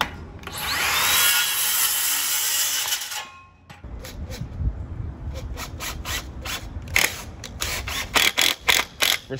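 A screw being driven into wood with a power drill, a sustained whine at first, then a run of ratcheting clicks and knocks as the screw bites, loud and close, no talking.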